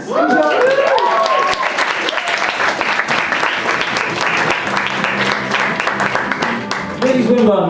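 Loud, dense applause from a comedy club audience for the comedian Lizzie Swinburn, sustained for several seconds, with a voice speaking briefly at the start and again near the end.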